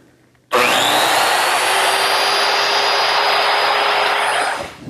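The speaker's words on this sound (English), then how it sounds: "The first step is along this line, with the saw set at a depth of 3/4 inch." A circular saw set to a 3/4-inch depth cuts tenons into a redwood arch, its loud steady whine running unbroken for about four seconds before spinning down.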